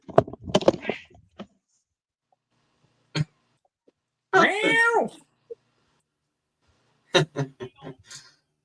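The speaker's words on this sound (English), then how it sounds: "Naughty cat." A cat gives a clear drawn-out meow partway through, with a few short bursts of sound and a cough in a quiet room around it.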